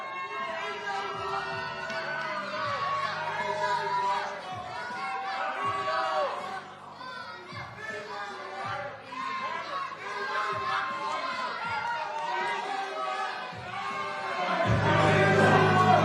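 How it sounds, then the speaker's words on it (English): A crowd fills a boxing weigh-in hall on St Patrick's Day weekend before a super featherweight title fight, with a dense, steady murmur of many voices, scattered laughter and cheers, swelling louder near the end. "You can hear the crowd here."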